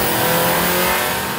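Škoda Octavia III RS Combi 2.0 TSI engine revving at full throttle, a loud, close, sustained roar that holds steady and strained throughout.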